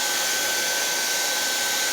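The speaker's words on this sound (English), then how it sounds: "My hairdryer's not reaching very good." Hair dryer on a low setting, used to blow acrylic pour paint, gives a steady, even whoosh with a thin high whine, close up and continuous with no talking.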